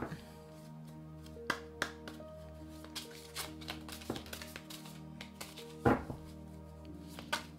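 Oracle cards being shuffled by hand, soft riffling and tapping with small sharp clicks at irregular intervals over a low background tone.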